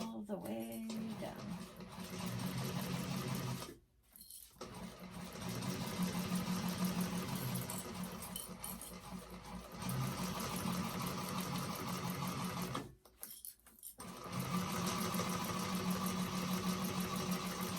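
A sewing machine back stitches down a handbag seam, a steady close mechanical whir running in long stretches broken by two short pauses, with faint talking over it.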